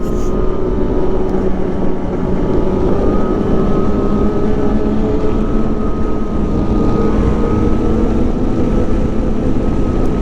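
A 2020 Polaris Indy XC 129 snowmobile runs along an icy, fresh-snow trail in Pittsburg, New Hampshire, its engine a loud, steady droning hum held at constant pitch for about ten seconds, with no talking.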